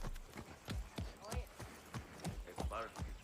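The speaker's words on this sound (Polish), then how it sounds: "Koń ćwiczący salsę, bo on albo to na jakieś e, zawody." Horse hooves trot and step in place in the Far Cry 6 video game, a quick series of loud clip-clop strikes at an even rhythm with a few soft snorts, alongside game background noise.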